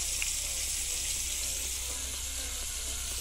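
Meat sizzling and frying on a grill outdoors by the sea, a steady, close hiss of hot fat that runs continuously without pause.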